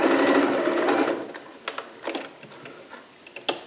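A sewing machine back stitches through fabric at the end of a seam: a steady close, loud whirring run that stops after about a second and a half, then a few short separate stitching bursts and clicks.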